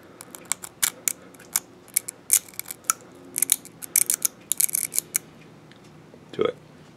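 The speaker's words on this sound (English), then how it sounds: "Both pyrites also make a pretty nice scritching sound" A knife scraped across pyrite gives a run of sharp, gritty scritching strokes in quick uneven bursts, close up and fairly loud, with a short pause before one last scrape.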